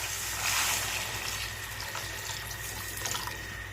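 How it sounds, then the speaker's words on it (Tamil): Water poured from a tumbler into a pan of sautéed onions for semiya upma, a steady, fairly close splashing pour that runs for several seconds with no talk. "இப்போ தண்ணி எல்லாம் அளந்து ஊற்றியாச்சு."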